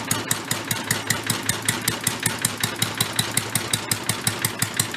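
An abandoned vintage Mite-e-Lite generator engine runs at full throttle with a rapid, even chugging beat and a harsh, close mechanical clatter, with no voices.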